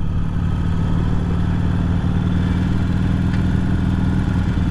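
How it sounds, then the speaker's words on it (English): A 2020 Harley-Davidson Iron 883 motorcycle engine while riding, a continuous low vibrating drone with steady rumble and clatter held at an even loudness throughout, no voices. "it's definitely a vibrating motorcycle"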